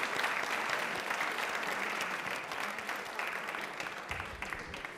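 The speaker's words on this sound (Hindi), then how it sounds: "तालियां प्लीज एक बार जोरदार हो जाए भागचंद जी के लिए।" Studio audience applauds steadily throughout to welcome a retired IRS officer onto a Rajasthan TV quiz show, a dense, even clatter of many hands at moderate level, easing slightly toward the end.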